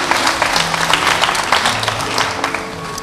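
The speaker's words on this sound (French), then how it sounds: "merci de l'applaudir." An audience applauds a contestant at the 2009 final of a French-language spelling bee in Benin. Dense, loud crowd clapping fills the whole stretch as a continuous patter with no break.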